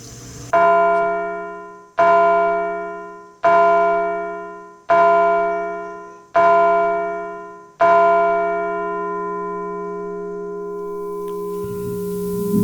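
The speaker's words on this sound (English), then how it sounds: "as the bell marks the hour" A bell at Constitution Hall tolls the hour with six loud, ringing strikes about a second and a half apart. The last one rings out and slowly fades into a long, steady hum, with no voices.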